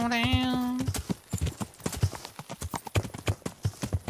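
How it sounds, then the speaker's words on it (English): A horse neighs loudly in Kingdom Come: Deliverance, then breaks into a fast, driving gallop of close, rhythmic hoofbeats that carries on steadily to the end, with no talk. "Is that my horse right there?"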